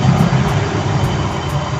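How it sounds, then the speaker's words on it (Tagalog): A Toyo engine idling nearby, a loud, steady low rumble with an even mechanical hum and no change in speed, with no talking. "ngayon paandarin ko yung makina"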